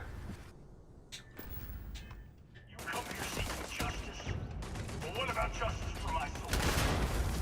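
Gunfire and grenade explosions in the space game Starfield: a quiet stretch with a few isolated cracks, then a sustained dense barrage of shots and blasts for the latter half, with voices faintly under the din.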